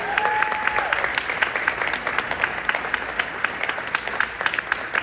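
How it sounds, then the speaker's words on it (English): An audience applauds at a company's 20th anniversary celebration, a sustained wash of many hands clapping close by, steady and loud for several seconds with a faint voice briefly above it near the start. "So let's give that a round of applause."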